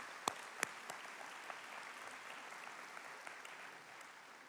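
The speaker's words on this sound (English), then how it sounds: "And I want to acknowledge that and applaud that right now." Graduation ceremony audience applause, a faint, distant wash of many hands clapping steadily, with a couple of sharper claps standing out near the start.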